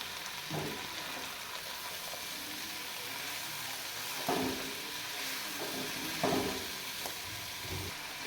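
Chicken seasoned with salt and black pepper frying in a pan for Chinese-style biryani, a steady close sizzle with occasional louder spatters and stirring scrapes, no talking.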